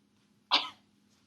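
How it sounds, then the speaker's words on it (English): A single short, sharp cough from a child during a speech exercise, close and clear, breaking an otherwise quiet room with a faint background hum. "Can you first cough?"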